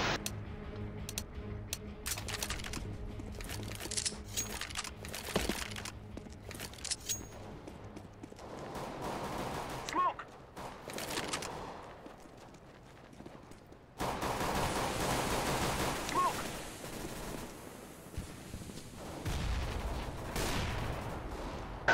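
Counter-Strike: Global Offensive gunfire, rapid bursts of rifle shots and clicks in the first half, a quieter lull, then a sustained loud stretch of firing and noise toward the end.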